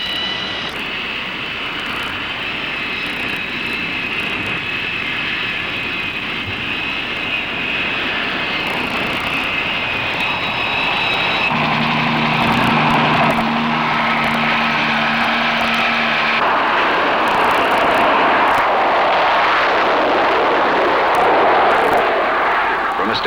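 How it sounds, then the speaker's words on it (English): Carrier jet aircraft launching from an aircraft carrier deck, a loud sustained engine roar that swells and shifts as the jet spools up and is catapulted off. "20 tons of aircraft reach flying speed in 2 seconds flat."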